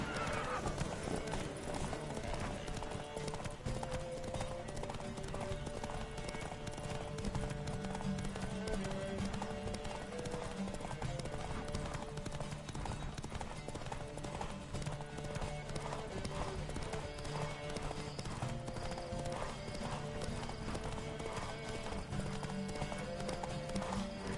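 Horses gallop in a race in The Witcher video game, hooves clip-clopping in a rapid, continuous rhythm with occasional neighs, alongside steady game music and rider shouts.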